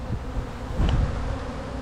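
Italian honey bees in a strong, freshly fed colony buzz inside an open hive, a dense, close swarming drone that holds steady for a couple of seconds and swells slightly midway.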